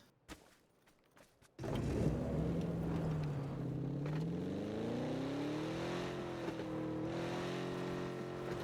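A car in PUBG starts up and drives, its engine droning steadily and rising in pitch as it speeds up, loud and continuous after a few brief clicks.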